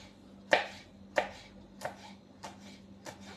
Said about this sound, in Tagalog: hiwa-hiwain ko to ng maliliit